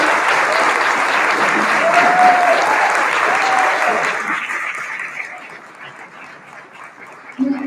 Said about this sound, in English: please help me give another round of applause for Imam and Suleiman for coming today